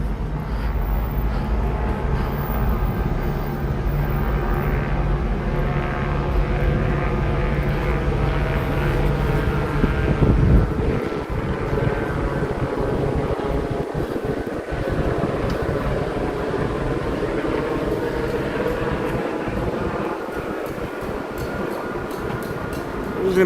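Steady low droning rumble of a helicopter flying overhead during nighttime riots in Los Angeles, continuous and fairly loud with no talk.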